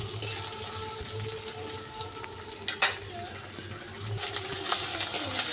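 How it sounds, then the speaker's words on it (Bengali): Chopped tomatoes tipped into a pan of frying onions for a Bengali rohu fish kalia, with a steady close sizzle, a few stirring clatters and a brief sharper burst midway, the frying growing louder near the end. "এবার আমি দিয়ে দিচ্ছি টমেটো কুচি।"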